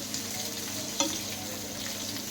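Potatoes fry in a pan toward browning, giving a soft continuous sizzle with one brief stirring clatter midway, close and free of talk.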